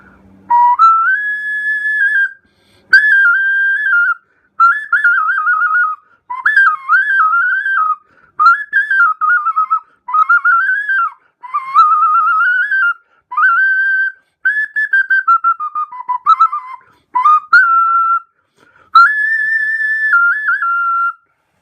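A handmade clay whistle with carved designs blown in a series of piercing, steady tones, phrased in short bursts with brief gaps and small pitch wavers, close and loud with nobody talking.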